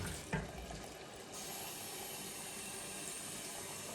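A container is filled with lukewarm water from a tap for soaking seed: a quiet, distant-sounding steady stream of running water that starts after a brief clunk and continues evenly to the end.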